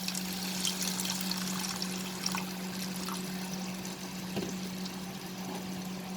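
Half a cup of water poured into cooked spices in a pot while making a pointed gourd dish: a steady, soft splashing pour over a low constant hum, with no talking.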